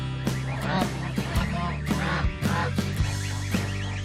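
Adult geese honking in a pen among goslings, repeated loud honks up close with overlapping calls throughout.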